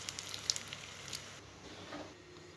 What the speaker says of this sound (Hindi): अब इसी तरह से हम सारे फ्राई कर लेंगे।